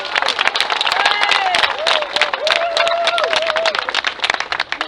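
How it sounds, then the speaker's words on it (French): Spectators at a cycling Grand Prix trophy ceremony in Moncontour applaud the winner with dense, loud clapping and some cheering, while voices talk over the applause. "Méritez vos applaudissements,"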